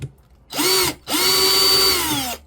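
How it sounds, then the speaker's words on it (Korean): A power drill bores a wire hole through a searchlight housing in two close, loud bursts, a short one and then a longer one, each winding up and down with a brief pause between them and no talk. "이쪽에 뚫어서 작업을 해볼게요"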